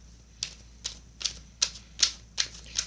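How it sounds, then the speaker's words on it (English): A deck of tarot cards is shuffled by hand, giving a run of about seven sharp, evenly spaced riffle snaps close to the microphone against a quiet background. "I'm going to cut the deck because I've been sitting here shuffling for a good bit"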